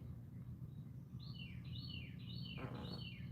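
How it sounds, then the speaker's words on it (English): A bird sings a series of quick descending whistled notes, fairly faint, over a constant low background hum. "Them birds out there singing."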